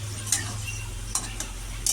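Bhola fish frying in a pan with coriander leaves, a steady low sizzle running throughout while a utensil scrapes and stirs in a few sharp, brief strokes.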